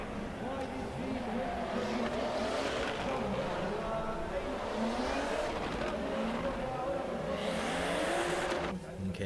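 Drift car at an Oman international drift championship qualifying round, engine revving and wailing through the slide with tire noise, continuous and loud, with commentators talking over it.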